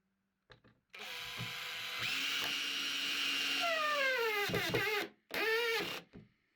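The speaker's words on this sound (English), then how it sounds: "get this little countersink tool here, which will fit onto the end of your drill" A power drill fitted with a countersink bit whirs steadily for several seconds, its pitch rising and falling as it drives screws into boards, then stops briefly and spins up again before cutting off.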